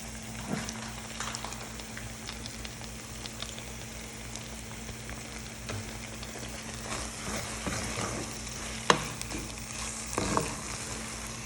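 Chicken pasta sauce thickened with tomato paste bubbles steadily in a pan, a continuous soft simmering patter with a few louder spoon scrapes and knocks near the end.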